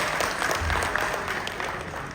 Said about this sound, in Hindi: एक लड्डू के लिए जोरदार ताली हो जानी चाहिए।